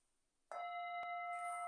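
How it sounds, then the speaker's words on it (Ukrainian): A singing bowl struck once and left ringing, a clear sustained metallic tone with several steady overtones after a soft onset, quiet and alone with no talking. "Ось ці такі нові вібрації, ось ця така співоча чаша."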